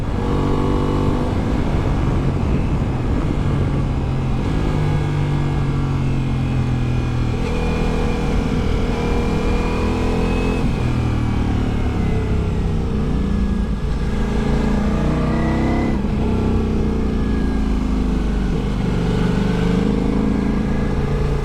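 Ducati Multistrada V4S motorcycle carrying panniers, ridden fast along an open curving road, its V4 engine droning loud and steady with rising and falling revs through the bends, wind rush underneath.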